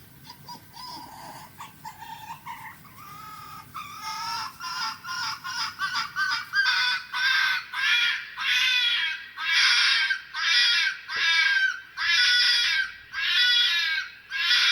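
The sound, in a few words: fox screaming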